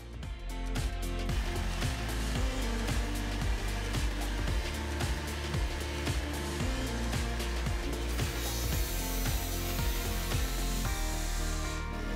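An angle grinder cuts into metal, a continuous high whine broken by repeated rhythmic bites and scraping, loud and close.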